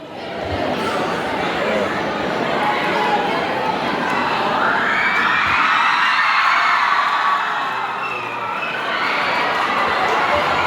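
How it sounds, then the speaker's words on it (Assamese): A crowd of students claps and cheers for an invited guest, with loud, sustained applause mixed with shouts and whoops that swell in the middle and carry on to the end. "ছাত্ৰ ছাত্ৰীসকলক অনুৰোধ জনাম তেখেতক হাত চাপৰি আহ্বান জনাবৰ বাবে"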